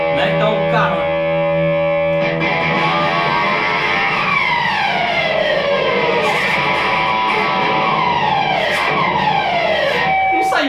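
An electric guitar played through heavy distortion tries to imitate a car. It gives loud, buzzing, sustained tones with long sliding pitch sweeps that rise and fall like a siren, broken by a few sharp attacks.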